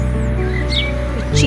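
Birds chirp outdoors among trees, several short thin calls over a steady loud low hum, brief and fairly close.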